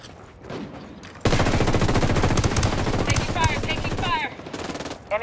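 Rapid automatic gunfire in Ghost Recon Wildlands at an airbase, a loud sustained burst of machine-gun fire with scattered distant shots before and after.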